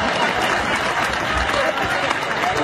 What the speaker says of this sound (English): Now clap for Moses.